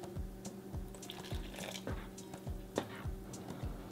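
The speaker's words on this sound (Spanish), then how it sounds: "A la mía sí le voy a poner un poco más de agua." Water poured into green salsa as it cooks: faint, light trickling and dripping with a steady bubbling underneath, no voices.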